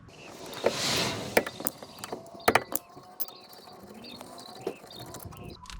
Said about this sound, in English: removing these 2 bolts.